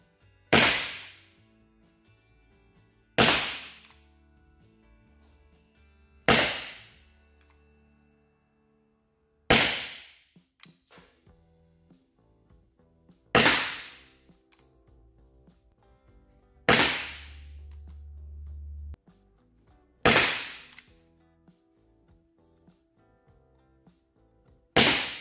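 Eight sharp airsoft MP9 shots firing fastballs ring out one at a time, spaced a few seconds apart, each a crisp loud crack with a brief decaying tail against near silence.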